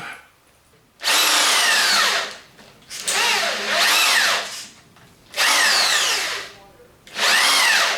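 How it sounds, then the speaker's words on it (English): A power drill bores a hole in the steel swing arm pivot of a Kawasaki GT550 motorcycle, four loud close bursts of high whining drilling separated by brief pauses. "I'm going to drill a hole here, which I can weld up again"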